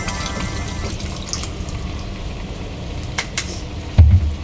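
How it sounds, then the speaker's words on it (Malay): Water poured into a pan of frying beef for rendang, a steady liquid rush over a continuous sizzle, close, with a brief thump near the end. "Masukkan air sikit."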